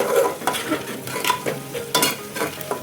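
Onion fried with ginger-garlic paste and tomatoes for masala chicken biryani, stirred with a spoon: repeated close scrapes and knocks against the pan over a steady sizzle.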